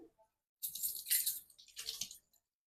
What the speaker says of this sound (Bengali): এবার চলো আমি হাতটা ধুয়ে নিই একটু